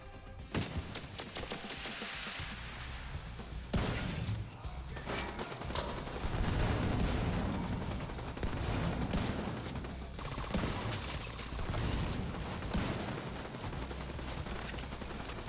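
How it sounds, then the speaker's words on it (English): A light machine gun fires in a video game in long sustained bursts, loud and close, with dense rapid rattling and crashing impacts across the whole stretch. "I see your LMG in action."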